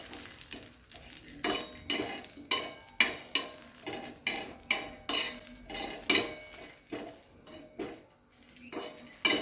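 Garlic and spices frying in a pan for okra chutney, with a metal spoon scraping and clinking against the pan in a regular stirring rhythm over a soft sizzle, close and without talk.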